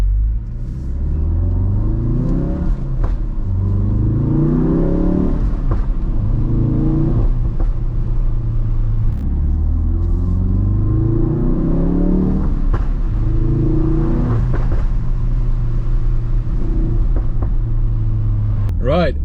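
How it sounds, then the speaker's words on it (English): A Ford Focus RS on its stock exhaust idles and revs while warming up, a steady deep engine rumble with swelling revs rising and falling several times, close and loud throughout. "let me warm up the car and then we do a few pulls with this thing"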